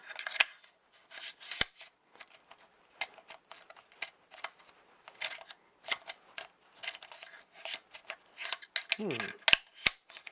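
A rifle charging handle slides back into an upper receiver during reassembly, heard as a string of small, close metallic clicks, scrapes and ratcheting snaps, quiet and irregular.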